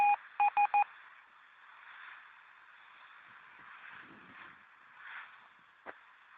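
A Baofeng BF-T1 UHF handheld radio gives a quick burst of short dialing-style beeps, then a faint, steady hiss of received signal with a brief click near the end.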